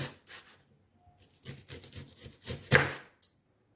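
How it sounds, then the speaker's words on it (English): Knife slicing onions on a cutting board while preparing abacha, the Nigerian African salad, giving a run of crisp, uneven cutting strokes with brief pauses and one louder chop near the end. "I slice the onions as well."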